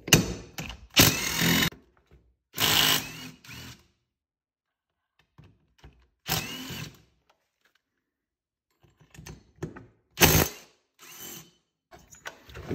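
Four T27 screws are backed out of the cylinder of a Stihl MS261C-M chainsaw, heard as short bursts of ratcheting driver clicks and metallic rattles with quiet gaps between them, close by and with no talking.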